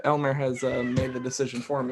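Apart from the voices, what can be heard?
cat meowing loudly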